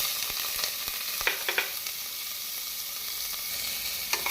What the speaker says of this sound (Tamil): பின் இதனுடன் நறுக்கிய வெங்காயத்தை போட்டு விடலாம்